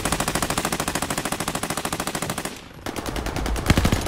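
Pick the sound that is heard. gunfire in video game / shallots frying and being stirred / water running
gunfire in video game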